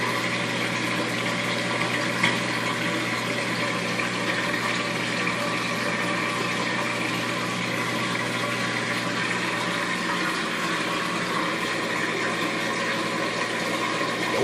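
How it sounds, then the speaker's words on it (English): Continuous rushing water with a steady pump hum, unchanging and fairly loud throughout, as a Magic Chef washing machine drains. "What you're hearing right now is the water draining"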